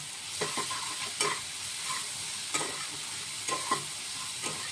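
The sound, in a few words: ginger garlic paste and green chili being stir-fried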